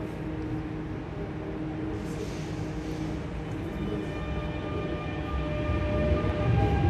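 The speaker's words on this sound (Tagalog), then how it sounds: "The next train to King Abdullah Financial District is approaching." Metro train approaching a station platform, a low rumbling drone that builds gradually and grows louder toward the end, with faint steady tones above it.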